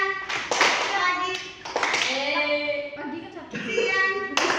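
A classroom clap chant during a microteaching lesson, with sharp rhythmic hand claps alternating with children and a teacher chanting the call-and-response words aloud.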